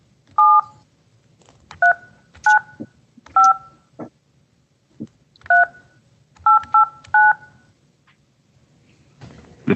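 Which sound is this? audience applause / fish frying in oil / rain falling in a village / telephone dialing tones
telephone dialing tones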